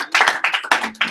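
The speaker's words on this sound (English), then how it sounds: "so give her a applause." A small audience claps for a colleague at a startup prep meeting in a Galleria office, the brief patter of hands coming in uneven bursts, fairly close and moderately loud.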